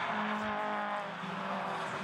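Race cars pass at Mallory Park circuit, a loud, sustained engine roar with a brief low swell as a car goes by.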